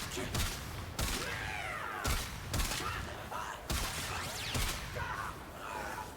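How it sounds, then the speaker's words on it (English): Kuva Zarr fired in shotgun mode in the Warframe video game: about six heavy booming blasts spaced roughly a second apart, each followed by ringing, crackling explosion tails, in a steady rhythm with no talking. "we're going to start off with the shotgun mode."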